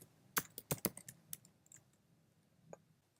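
Keys are typed on a Mac computer keyboard in a quiet room, a quick run of crisp close clicks followed by a few sparse taps.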